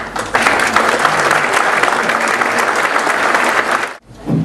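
An audience at an exhibition opening applauds steadily and loudly to welcome a speaker, a dense wash of clapping that cuts off sharply near the end before a voice begins.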